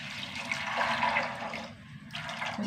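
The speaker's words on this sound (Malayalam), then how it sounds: "ഒരു 3/4 കപ്പ് വെള്ളം ഒഴിച്ചു കൊടുക്കാം." Water gushes steadily into a cooking pot, a close, rushing pour that briefly dips before continuing.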